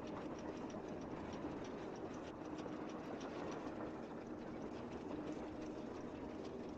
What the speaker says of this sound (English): Can't go outside until the train stops.